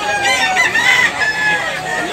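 A black Hennie gamecock in Tabunok, Cebu crows loudly and close by in one long drawn-out call, with other fowl clucking underneath.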